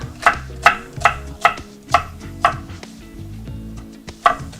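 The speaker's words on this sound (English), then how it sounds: "I'm giving it a chop on a bias." A knife chops vegetables for a vegetable stir fry, cutting them on a bias: a steady run of sharp, close thuds on a board, about eight strokes spaced roughly half a second apart, with no talk.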